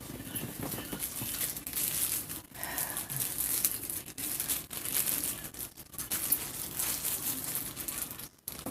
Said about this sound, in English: Gotta get my plastic bag here.